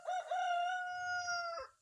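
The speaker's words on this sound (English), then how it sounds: "I wish you'd quit talking to them dumbass roosters." A rooster crows once, loud and close, in a single long drawn-out call lasting nearly two seconds, with faint clucking from other chickens underneath.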